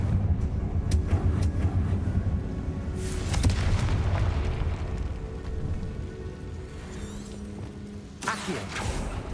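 A Confringo blasting spell going off in Hogwarts Legacy, loud booming rumbles with crackling debris and bursts of noise spread through several seconds.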